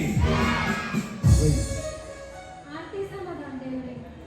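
A crowd of women and children at a Khel Paithanicha game-show event in Chikhli loudly shouts the Bharat Mata ki Jai slogan in unison, a sharp collective roar that fades into scattered voices and chatter.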